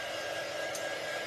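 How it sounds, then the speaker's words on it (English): Hair dryer blowing steadily on an acrylic botanical floating frame craft, a constant close broadband whoosh with no talking. "I'm still hitting it with the dryer."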